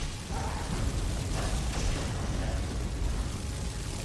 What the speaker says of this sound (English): Then try to bomb it from afar and set it on fire.